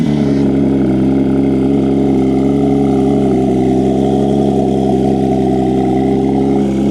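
Porsche GT3 RS engine on a cold start, settling into a loud, steady, high-idle drone that holds evenly and close by for the whole stretch, with no talking.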